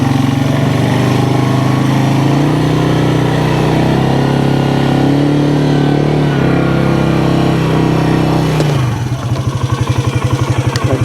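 A tractor drives across a wet food plot, its engine droning loud and close at a steady pitch, then dropping and shifting into a rougher, pulsing chug near the end.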